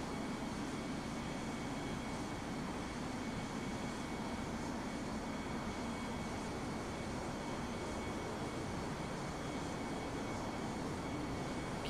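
Four-engine Vulcan bomber jet engines throttling down in Microsoft Flight Simulator 2020, a steady broadband roar with a constant hiss that holds level and close throughout, with no talk over it.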